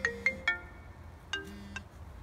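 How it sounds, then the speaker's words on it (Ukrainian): A phone ringtone plays a short electronic melody of quick, bright notes, a burst of three, then two more after a pause, fairly quiet. "Так, ще Катя дзвонить."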